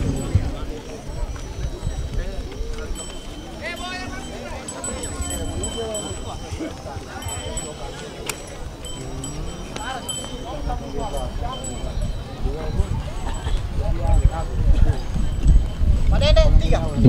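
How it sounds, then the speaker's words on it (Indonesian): A pair of racing cattle running past a grandstand at a village cattle race, heard as a busy rumble of hooves and crowd noise under continuous announcer talk. "Melintas di depan tribun, pasangan sapi Cahaya Baru"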